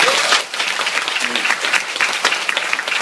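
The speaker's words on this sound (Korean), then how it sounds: "박수 한번 쳐주세요." Steady applause from a seated audience at a talk fills the whole stretch, dense and loud with a brief dip near the start.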